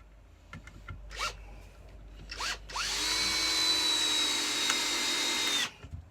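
A Ryobi R18ID3 18V cordless impact driver set to drill mode bores into a timber block, with a few short clicks and handling sounds first and then a loud, steady whine running about three seconds that ends abruptly.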